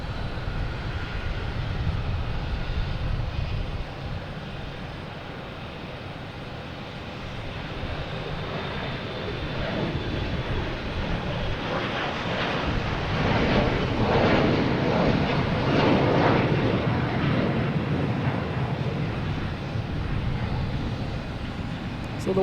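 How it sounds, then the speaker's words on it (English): Delta Embraer E175 jet taking off for Pittsburgh at Boston Logan Airport, a distant engine roar that builds to a louder broadband rush in the second half, with faint talk in the background. "Next to take off is Delta, E175, heading to Pittsburgh."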